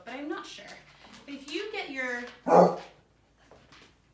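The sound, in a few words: dog barking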